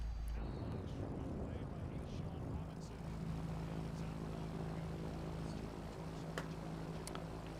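Airplane engine in a flight simulator video game drones steadily and loudly throughout, a constant low propeller hum with a sustained tonal whine, while people talk over it.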